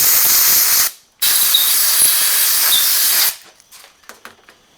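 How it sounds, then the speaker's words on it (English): Compressed air blows swarf out of a hole drilled in a broken Japanese chisel: two loud, steady hissing bursts, a short one and then a longer one, with a brief gap between them, followed by faint handling clicks. "Just give that a little blowout so I don't get the swarf in there."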